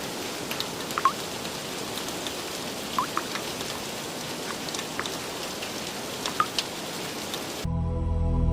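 Steady rain falls on a night-time scene as a sound effect, a constant hiss with scattered louder drops and drips, fairly loud and with no speech, until a low tone takes over at the very end.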